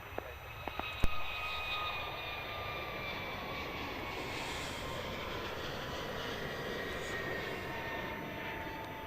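A Jetstar jet airliner takes off from Melbourne Airport bound for Bali, its engine roar a steady, sustained broadband rumble throughout. It is fairly distant, with a few faint clicks near the start and no talk.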